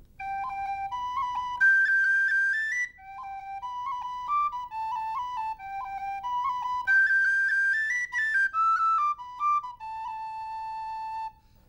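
An Irish tin whistle plays a jig with ornamental rolls, a bright, clear solo melody of quick lilting notes and rapid turns that is close and steady throughout with no talking.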